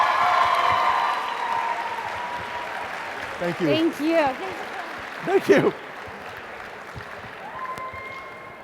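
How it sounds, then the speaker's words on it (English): An audience claps briefly at an ethics boot camp session, the applause fading quickly as a speaker offers thanks several times. "Round of applause for everybody."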